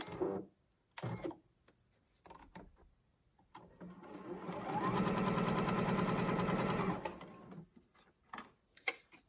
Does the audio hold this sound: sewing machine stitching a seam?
yes